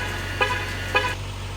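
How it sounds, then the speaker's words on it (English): A Jeep sounds two short horn chirps about half a second apart when left running with the key carried away, heard over a steady low engine idle hum with no talking. "stop your vehicle from honking at you when you leave it running with your key in your hand."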